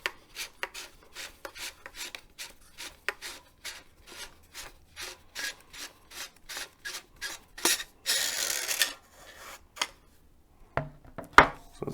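The barrel of a Worker Seagull blaster is unscrewed in a quick run of rasping, ratchet-like clicks, then a longer scraping rub and a few louder knocks as it comes free.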